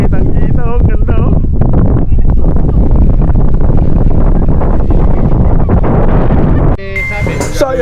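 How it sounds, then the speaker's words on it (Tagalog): Strong wind buffets the microphone in a loud, constant rumble at a grotto in Dingalan, Aurora, with a voice speaking briefly near the start and a sudden shift near the end. "napakalakas ng hangin"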